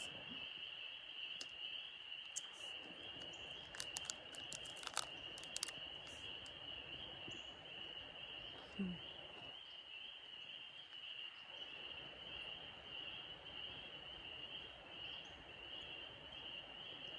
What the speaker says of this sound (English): The frogs.